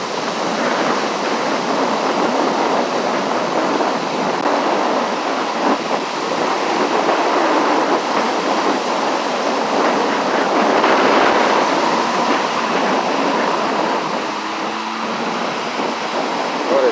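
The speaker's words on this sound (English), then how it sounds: "traffic coming through" Vehicles drive through a flooded road on Morrissey Boulevard at high tide, a continuous rushing and sloshing of water with engine noise, steady and fairly loud throughout.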